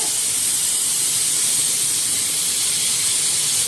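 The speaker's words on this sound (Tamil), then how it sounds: "இப்போ குக்கர்ல இது வந்து ஒரு 4 விசில் 5 விசில் எடுத்துக்கோங்க" A steady, loud rush of escaping steam hisses without a break as a pressure cooker whistle vents, with no voices.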